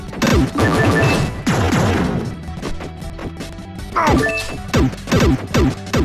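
Wrecking and smashing effects from the Wreck-It Ralph 3DS video game, loud repeated crashes and thwacks in bursts, with bright ringing dings and jingles between the hits.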